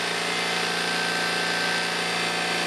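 An electric motor fitted into a John Deere 316 garden tractor conversion runs with its cowling off, giving a steady, loud, even whine and hum with no change in speed throughout.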